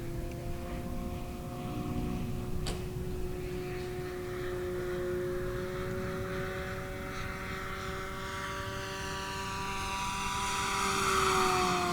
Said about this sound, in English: This is going to be a 1-roll rolling circle, first time with this airplane.